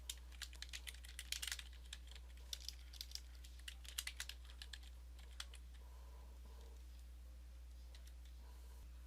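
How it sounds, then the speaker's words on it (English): Fingers tap out quick, light keystrokes on a computer keyboard to enter a slide title, soft and close over a low steady hum, the typing thinning out after a few seconds. "Since this is our title slide, I'll just type in staff meeting here."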